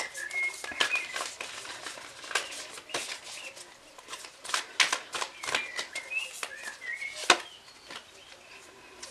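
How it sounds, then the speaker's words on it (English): Tarot cards are shuffled by hand in irregular bursts of crisp riffling, snapping and flicking taps, close and fairly quiet. The handling continues for several seconds with no talk. "this is where I'm gonna shuffle, and if you guys enjoy the shuffling noise"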